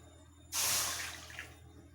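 Water poured into a cooking pot to soak chuda (flattened rice), a sudden close, loud rush that starts abruptly, then tapers off over about a second and a half with a small splash near the end.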